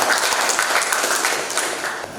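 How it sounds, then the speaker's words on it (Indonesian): Audience applause at an indoor political party gathering in Malang, a dense burst of many hands clapping together, loud and close, then slowly thinning out. "Tepuk tangan Pak Astor."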